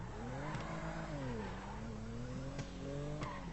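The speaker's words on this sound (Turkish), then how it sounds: "Çok güzel drift de atıyor arabamız." Tofaş Şahin car drifting in GTA 5, its engine note rising and falling steadily with revving and tire-skid texture, continuous and fairly loud throughout with no talk.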